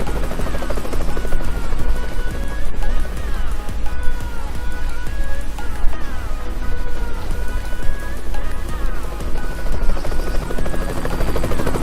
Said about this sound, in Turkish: Ha, helikopter tepemizde.